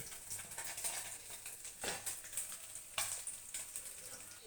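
Pangas fish pieces coated in turmeric and chilli frying in a pan, a steady close hiss and crackle of hot oil with occasional louder pops and spatters, no talking.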